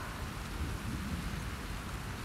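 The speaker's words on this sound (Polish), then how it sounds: "Burza?" Steady thunderstorm rain in the video game The Last of Us Part II, dense continuous downpour with a low rumbling undertone, loud and unbroken throughout.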